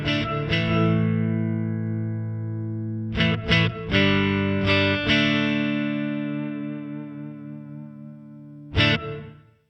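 Clean electric guitar chords and single notes through a JST Toneforge Ben Bruce ResQ reverb plugin ring out with long, washy reverb tails, strummed a few times with pauses as the sound decays.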